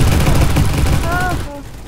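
Rapid bursts of gunfire in the Roblox game Bad Business, loud and continuous before tapering into a few game effect tones, with a voice speaking over it.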